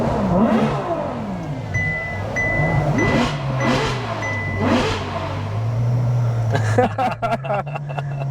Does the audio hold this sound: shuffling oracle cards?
no